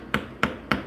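Three crisp metallic taps, evenly spaced about a third of a second apart, as a small hammer drives a retainer onto a slot car axle on a hard surface; close and fairly loud, with no talking.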